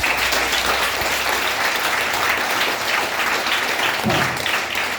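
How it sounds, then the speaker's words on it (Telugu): A hall full of college students at a motivational class claps, a thick, even wash of applause that stays loud and steady from start to finish with no pauses. "ఒకసారి మీ నాన్న ఒకసారి గట్టిగా క్లాప్స్ ఉంటాడు."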